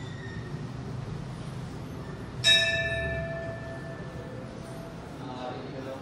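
A single temple bell at Jabreshwar temple is struck once, giving a bright metallic clang whose ringing tone slowly fades over a low steady background hum.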